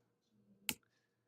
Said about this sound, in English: So you have to hold the shift key down and click the asterisk